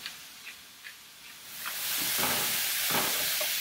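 A few faint clicks, then broccoli in a very hot pan sizzles up and holds loud and steady, close by, with crackling bursts throughout.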